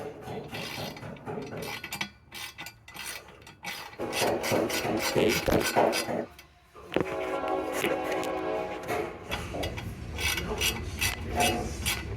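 Metal tools work on a small 6.5hp scooter as its bolts are tightened, making repeated ratcheting and rasping clicks in uneven bursts. There are brief pauses, and one sharp clank comes midway.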